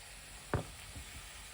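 Pork fries in a pan with a faint, steady sizzle, broken by one brief knock of a utensil and a couple of softer stirring taps.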